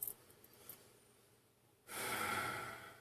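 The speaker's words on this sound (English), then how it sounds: "You take that deep cleansing breath." Near silence, then one long, deep breath drawn in close to the microphone, rushing and airy for about a second.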